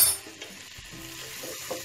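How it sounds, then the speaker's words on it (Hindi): Butter tempering with Kashmiri red chili sizzles briefly in a pan, a soft steady crackle with a light stir, heard alone. "थोड़ा सा हम इसके ऊपर तड़का लगाएंगे।"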